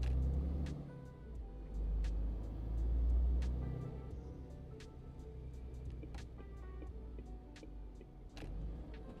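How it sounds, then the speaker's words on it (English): Truck engine in Euro Truck Simulator 2 drones steadily with a deep low rumble throughout, swelling briefly as if revving, with faint clicks and no talk over it. "I'm not sure if I have any mod engine sounds for this truck or not."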